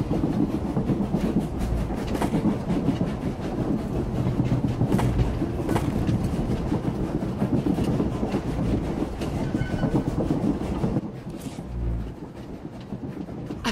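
A moving train in the Star Wars: The Old Republic video game rumbles loudly and continuously with rhythmic wheel clatter, near and steady, easing slightly toward the end.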